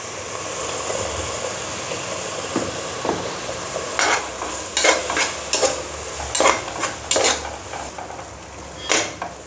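Ginger and garlic sizzle in hot oil as a spoon stirs them around a pan for a Kaalan biryani, with repeated sharp scrapes and clinks of utensil on metal over a steady frying hiss, no voices.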